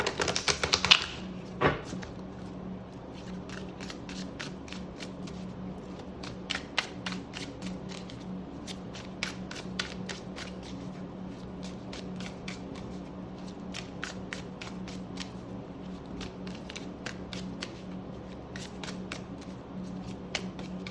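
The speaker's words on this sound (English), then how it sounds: "let's give this one a good shuffle because it's tarot size" Crisp riffling and snapping of a tarot-size deck of cards being shuffled close by, in repeated rapid bursts with short pauses between.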